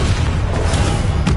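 A Confringo blasting-spell explosion effect delivers a loud, continuous booming roar, thick and rumbling, filling the whole moment without pause.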